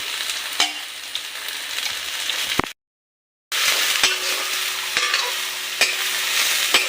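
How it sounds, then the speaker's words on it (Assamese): Soybean chunks frying in a pan, a close crackling sizzle broken by stirring strokes, with one brief silent gap partway through before the frying and stirring resume. "ইফালে চয়াবিনখিনি ভাজি আছোঁ"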